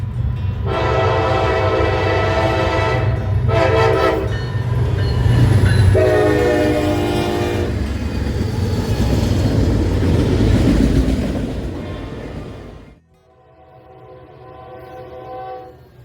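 A Norfolk Southern SD60e diesel locomotive sounds its horn in several long, loud blasts over a rumbling engine and rolling train, then the horn stops and the rumble fades before returning faintly.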